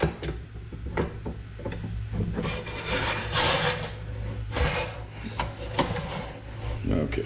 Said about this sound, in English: we will put our chisel rest back on